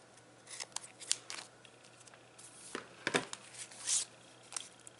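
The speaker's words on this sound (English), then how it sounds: "let me cut off that excess ribbon" Scissors snipping excess ribbon while making craft borders from scraps, several quiet close-up crisp blade clicks and a slicing swish, spaced irregularly over a hushed room.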